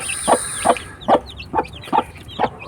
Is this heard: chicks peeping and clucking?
yes